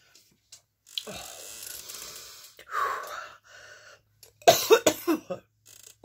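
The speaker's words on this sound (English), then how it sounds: "I am coughing" A person coughs and gasps in short bursts, with breathy throat sounds between, ending in a cluster of sharp, close coughs.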